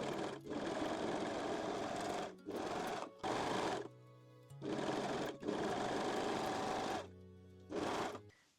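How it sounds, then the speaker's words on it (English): Side seams of a lace bralette with picot elastic go through a sewing machine in a series of close, steady whirring runs broken by brief stops, with no voices. "And sew both side seams."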